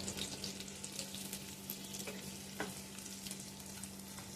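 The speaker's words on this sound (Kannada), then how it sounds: "ಬೆಳ್ಳುಳ್ಳಿ, ಕರಿಬೇವು ಇಷ್ಟು ಹಾಕಿ ಒಗ್ಗರಣೆ ಮಾಡುವ" Garlic and curry leaves sizzle in hot tempering oil for mango pickle, a steady close crackling fry with a few sharper pops and stirring, with a faint constant hum beneath.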